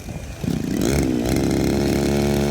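A small NB411 gasoline brush cutter engine with a line-trimmer head sputters to life and revs up into a loud, buzzing drone, close by and steady with no talking.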